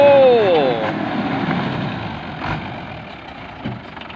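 A vehicle engine idles with a low steady rumble and rises briefly in pitch at the start, with a sweeping tone that fades back into a steady mid-level drone.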